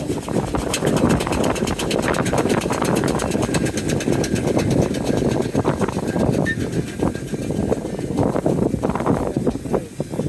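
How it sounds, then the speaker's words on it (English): A Brown and May steam traction engine chugs and rumbles steadily at close range at a steam rally, with a rhythmic mechanical beat and some wind noise over the microphone throughout. "Brown and May tractor, only one."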